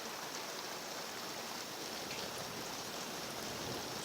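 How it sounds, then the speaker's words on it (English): Steady rain falls hard outdoors as a dense, even hiss with no breaks, fairly faint and with no voices. "in the meanwhile it's raining even harder."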